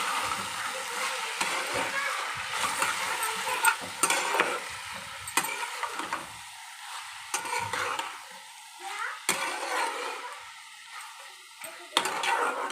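A spoon repeatedly scrapes and stirs tomato masala for a brinjal curry in a pan, with irregular clinking strokes over a soft, steady sizzle of frying.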